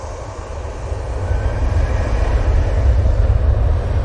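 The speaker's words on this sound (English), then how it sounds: "obviously waiting for that bizjet to come in" A business jet landing at Manchester Airport, a deep low rumble that swells louder over a few seconds as it draws nearer, unbroken and without any speech.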